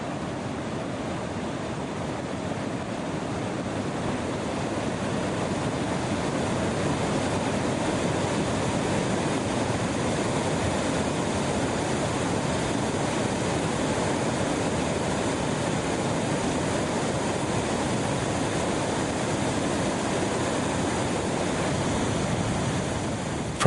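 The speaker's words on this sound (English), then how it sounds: "the water comes crashing down and rushes headlong towards the plains" Monsoon floodwater crashes down from plateaus and rushes toward the plains near Rani Falls, a loud, dense, continuous roar of torrent with no breaks and no voices.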